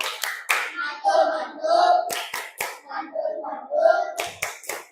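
A classroom of children does a rhythmic group clapping routine, with sharp, repeated claps in patterned bursts between chanted voices.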